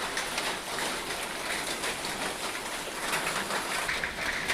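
Light drizzling rain falls outdoors near a wood-fired cooking hearth, a soft continuous patter with scattered droplet ticks and a faint bird coo, steady and moderately quiet throughout.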